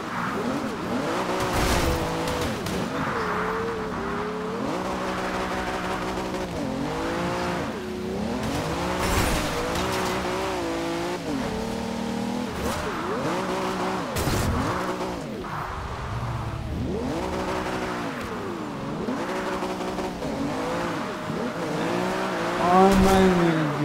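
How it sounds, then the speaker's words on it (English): A drifting car in the racing game Forza Horizon 2, engine revving up and down under long wavering tire squeals, loud and continuous, with a louder burst at the end. "Now I will show you guys where I mainly drift"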